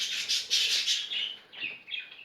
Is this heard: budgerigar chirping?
yes